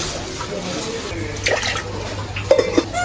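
Water poured into a cooking pot for khaman batter in a home kitchen, a soft running splash with light clinks of utensils, close and moderately loud.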